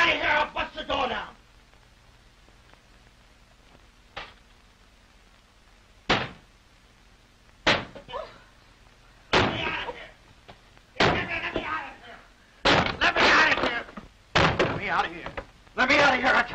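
A man pounds on a locked bathroom door in a 1933 film scene, heard as loud, separated bursts of heavy thuds and knocks, some in quick clusters, with quiet gaps between.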